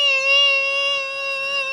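Someone imitates the high, steady ear-ringing tone heard after a flashbang in a video game, holding a thin, pure whistle-like pitch close and clear for under two seconds.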